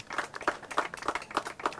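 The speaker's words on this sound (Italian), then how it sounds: "l'accogliamo anche con un applauso" Applause from an audience welcoming a speaker at a public talk, a few fairly sparse, distinct hand claps in an uneven rhythm, moderately quiet and close.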